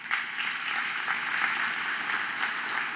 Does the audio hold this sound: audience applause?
yes